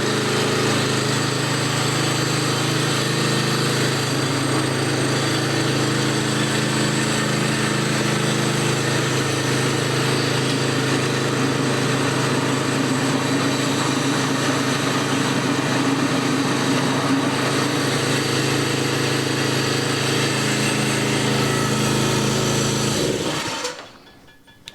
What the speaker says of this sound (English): This is our Harbor Freight Predator engine swapped DR mow behind, walk behind string trimmer